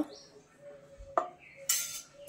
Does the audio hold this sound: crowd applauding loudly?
no